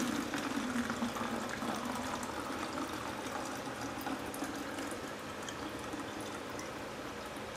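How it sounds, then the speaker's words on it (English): Water runs steadily into 16-ounce plastic bottles in a continuous, fairly quiet gurgling pour, with the sound dropping slightly as the bottles fill. "I got some 16-ounce water bottles here. Let's fill them up and see, get a better idea."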